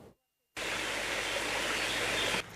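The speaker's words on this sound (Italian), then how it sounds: "L'acqua scorre dolcemente" The Brenta river flows by the Lungobrenta in Bassano del Grappa as a steady, fairly loud broadband rush of water that starts abruptly after a short silence and then cuts off.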